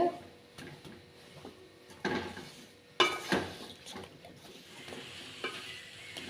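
Plantain pieces coated in masala get stirred in hot oil, giving soft intermittent scraping and clinks of a utensil against the pan over a faint, low sizzle, close but quiet, with a few louder knocks.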